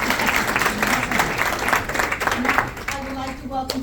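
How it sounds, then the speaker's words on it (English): Applause at a school district awards ceremony, with broadband clapping from the audience through most of the moment that thins near the end, while a voice speaks over it. "Give him another round of applause."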